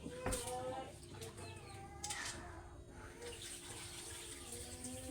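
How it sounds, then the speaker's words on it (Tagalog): Rice grains swished and rinsed by hand in a bowl of water in a home kitchen, with splashing and trickling water, faint sharp clicks, a rooster audible in the background and quiet voices nearby. "Balawan natin ng maigi yung bigas para yung kanin maputing-puti."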